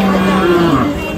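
A deshi-breed dairy cow at the Kaharol cattle market in Dinajpur lets out a loud, close, drawn-out moo lasting about a second.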